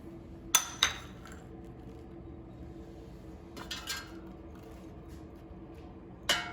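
Raisins spooned into apples with a metal tablespoon measure, a few sharp clinks and light taps of spoon on dish scattered over a quiet kitchen background.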